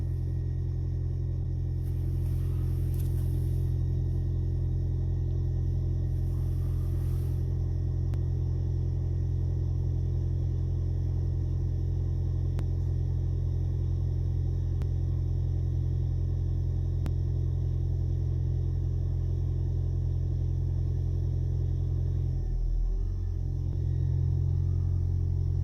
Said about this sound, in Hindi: गाड़ी के साथ साथ वार्म अप भी हो रही है।